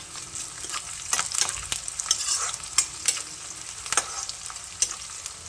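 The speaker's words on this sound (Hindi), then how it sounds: "इसी वक्त कुछ लहसुन, जिसको बिना छीले हुए ही हम लोग तड़के में डाल देंगे" Unpeeled garlic cloves frying in hot oil for a tempering while jackfruit curry is cooked, a steady crackling sizzle with sharper spits and pops throughout, close and without talk.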